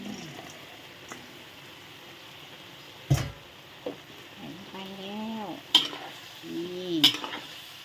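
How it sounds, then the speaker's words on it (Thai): Ginger chicken with bell pepper, onion and tomato is stir-fried in a pan, giving a soft background sizzle with sharp utensil scrapes and clinks, while a person's voice is heard intermittently. "ผัดให้เข้ากัน"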